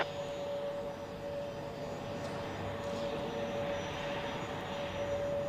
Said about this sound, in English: the 757 with the special livery, 80 years of aviation livery, soon to be retired